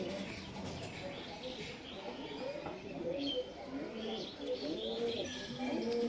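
Hazarwala-breed pigeon cooing in soft, repeated low calls, with faint chirps from other birds and a steady background hum throughout.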